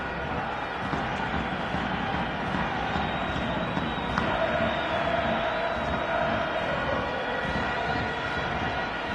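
Football stadium crowd at a Mamelodi Sundowns versus Kaizer Chiefs MTN8 match, with Sundowns fans singing as a steady sustained roar and a wailing tone on top, under faint commentary.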